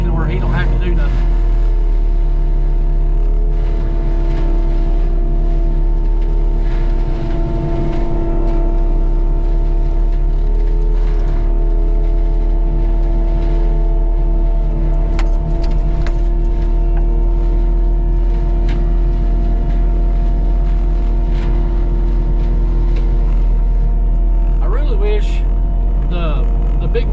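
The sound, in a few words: forestry mulcher clearing a property line for a fence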